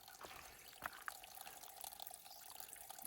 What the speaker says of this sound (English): A spring with a pipe.